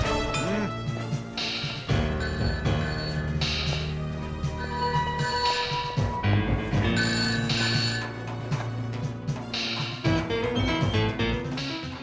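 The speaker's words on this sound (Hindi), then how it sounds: "Sir, phone." Telephone ringing in a police station in a Hindi-dubbed action film, the ring set beneath a loud, continuous music score.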